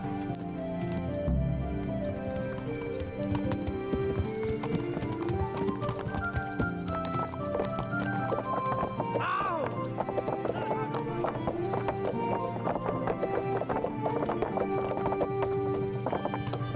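Horse hooves clip-clopping in the video game Kingdom Come: Deliverance, a steady rhythmic patter under game music with a brief whinny midway, with voices speaking over it throughout.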